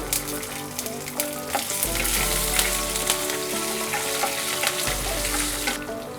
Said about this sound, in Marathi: आपलं जिरं आणि मिरची छान मस्त फोडणी बसलेली आहे